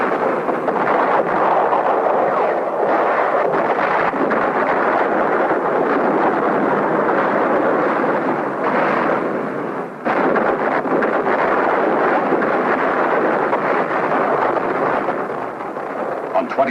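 Bombing and artillery barrage at Khe Sanh, Vietnam, with an ammunition dump hit: a continuous loud rumbling roar of blasts blurred together, with a brief dip partway through.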